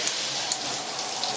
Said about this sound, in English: So you can see this is a normal rain shower pattern, it's coming down.